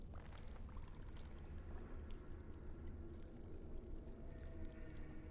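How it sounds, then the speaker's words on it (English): Water pours steadily into an earthen clay jug in the video game Dragon Age: Origins, a faint, continuous gurgling splash with no voices. "Fill the jug with the water."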